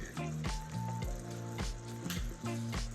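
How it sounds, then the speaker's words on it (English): Sugar syrup for candy grapes boils steadily in a pot with a soft, continuous bubbling sizzle under background music. "Now we just let this boil till it reach the temperature of 300."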